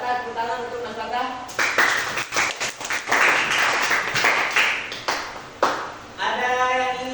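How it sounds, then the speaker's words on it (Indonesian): A classroom of students applauds a classmate for about four seconds, a dense, lively patter of clapping. A voice speaks just before it starts and again as it ends. "Tepuk tangan untuk Mas Fatah"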